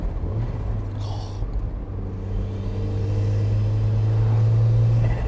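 A turbocharged Mk1 Mazda MX-5 runs in fourth gear, its engine giving a loud, steady in-cabin drone that rises slightly in pitch and strength as it pulls, with road rumble beneath.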